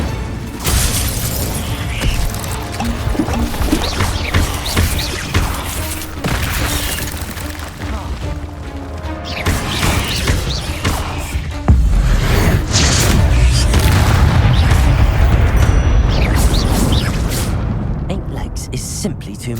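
Incendio fire spell cast during a busy Hogwarts Legacy battle, with repeated whooshing fiery bursts and booms over dense combat effects and music, loud and continuous, surging louder near the end.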